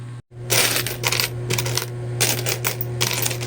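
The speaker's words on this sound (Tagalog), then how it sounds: "Napakarami kong barya dito sa tindahan guys" Coins clatter and jingle steadily as they are handled and sorted at a small store counter, with dense metallic rattling bursts continuing after a brief silence at the start, close and loud.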